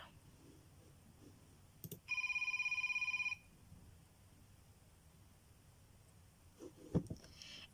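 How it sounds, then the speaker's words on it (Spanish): A telephone rings once in a short burst of rapid electronic trilling, clear but fairly quiet against faint background hiss, followed by a few soft knocks and bumps. "El sonido del teléfono va a ser un sonido largo."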